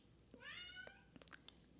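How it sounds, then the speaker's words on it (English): A cat meows indoors: one drawn-out, wavering meow, faint and fairly close, followed by a few soft clicks and rustles, no talking over it. "I don't know if y'all can hear the cat."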